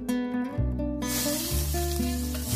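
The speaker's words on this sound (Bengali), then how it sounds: "ওই তেলের ওপর দিয়ে দিচ্ছি 2টি মাঝারি সাইজের কুচিয়ে রাখা আলু ও কিছু কেটে রাখা গাজর" Chopped potatoes and carrots dropped into hot refined oil in a pan, a steady hissing sizzle that swells after about a second and carries on close and loud.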